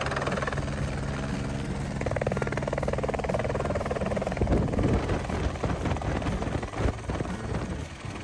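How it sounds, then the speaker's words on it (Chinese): A helicopter sits on the ground at a New Zealand mountain snowfield, its rotor wash blasting ice. The rotor and engine roar is loud and continuous, with gusty, wind-like buffeting that swells toward the middle. "离开前记得也要体验一下被直升机喷冰。"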